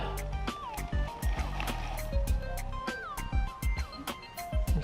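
Engine oil being poured from a container into a car engine during an oil and filter change, with gurgling, sloshing liquid glugs and occasional knocks and clinks, close and fairly steady.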